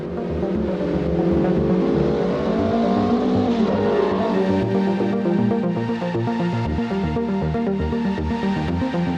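A race car accelerates out of the garage, its engine climbing in pitch through several gear changes with a steady, moderately close, buzzing roar and no voices.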